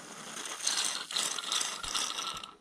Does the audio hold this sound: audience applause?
no